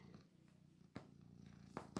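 A cat purring steadily and close while its fur is brushed with a glove, a soft continuous low rumble with a few brief brushing or rustling bursts.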